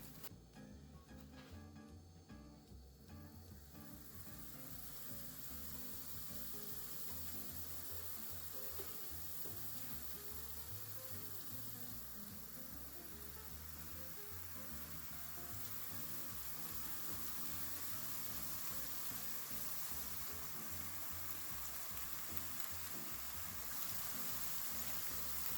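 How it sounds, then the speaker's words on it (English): Chicken taquitos frying in hot oil, a faint steady sizzle with soft crackling throughout, heard alone at low volume for a long stretch. "Yes, and it's sizzling."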